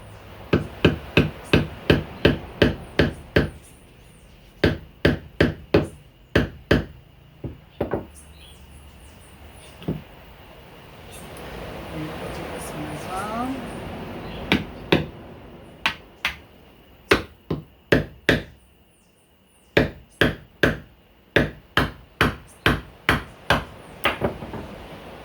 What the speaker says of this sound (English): See if we can actually hammer it itself.